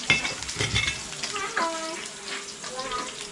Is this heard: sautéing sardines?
yes